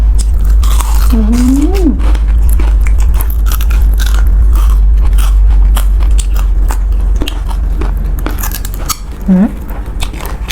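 Biting into crispy fried skin produces dry crunching bites close to the microphone over a steady low background rumble, with a brief vocal exclamation early on and another near the end.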